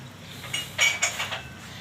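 A metal lid clinks onto a cooking pot of rohu fish with cauliflower and green tomato, two or three close, bright clanks over a faint simmer.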